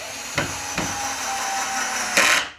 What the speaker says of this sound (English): you can reduce the setting, the torque setting on your cordless, and you can fire it in. Tighten them up a bit.